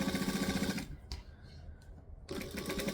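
Sewing machine stitching a shirred waist with elastic thread on wrap pants, rapid close mechanical chatter that stops for over a second and then resumes.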